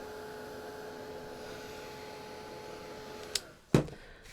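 A hair dryer blows steadily up close, drying paint on a handmade craft door sign, a continuous airy whir that cuts off abruptly near the end with a couple of clunks.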